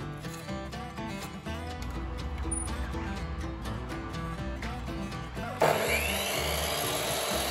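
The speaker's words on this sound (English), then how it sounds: "I got started by cutting 8 legs to length." Wooden legs for model railroad benchwork being sawn to length, eight in all, with steady rasping cuts running throughout at close range over a faint musical background, then a brighter, harsher tool sound near the end.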